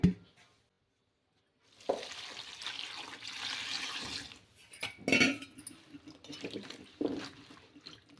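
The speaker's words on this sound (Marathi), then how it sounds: "आता ही भाजी आपण दोन तीन पाण्याने धुवून घेऊया" Water splashes and sloshes in bursts as fenugreek leaves are swished around in a basin, with brief pauses between the swirls.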